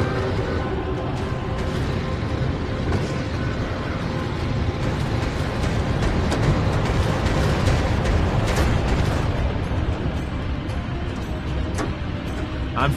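Rockets firing and explosions during a night air-combat mission in Warplanes: Battles over Pacific, a dense, continuous roar of engine drone and blasts at steady high loudness with no letup.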